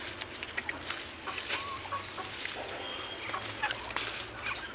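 Turkeys cluck at feeding time on a farm, with faint, scattered calls and soft gobbling sounds spread over a low background rumble.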